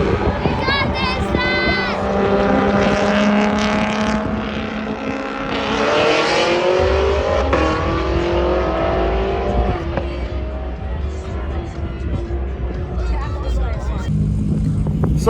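A race car in a roll race accelerates hard, its engine revving loud and rising through gears with turbo whine, while people talk and cheer nearby over the roar.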